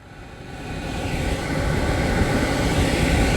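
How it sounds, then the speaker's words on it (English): A Mercedes rear blower motor ramps up to high speed, its broad airy rush swelling louder over the first seconds and then holding steady and close. "We still need to check whether we can control the speed of that rear blower motor with that new module installed."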